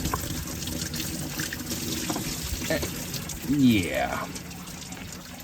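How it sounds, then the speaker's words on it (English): Coolant drains from a VW 3.2 VR6 engine during a water pump job, trickling and splashing into a container at close range, with a brief word spoken over the steady liquid flow. "A little bit of a tappy tap, and here comes some coolant. I hope my container's big enough."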